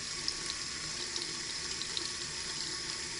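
A bath pouf and a bar of handmade soap being wetted under a running tap, a steady close splash and hiss of flowing water with no talking.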